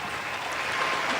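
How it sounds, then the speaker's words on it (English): A short burst of canned crowd applause plays from a soundboard, steady and moderately loud for about a second. "Let me hit the round of applause real quick"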